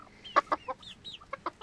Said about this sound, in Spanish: Ahí está el gallo.